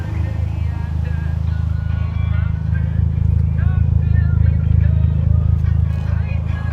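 The exhaust of a 2016 Ford Focus ST turbo with a six-speed manual rumbles in a deep, steady idle close by, while voices talk faintly over the throb.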